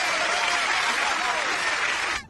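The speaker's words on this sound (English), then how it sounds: "let's give a warm round of applause to this week's guest" Warm studio audience applause for a guest on a television show, a thick, steady roar of clapping at close range that holds level and then cuts off abruptly, with a faint voice carrying beneath it.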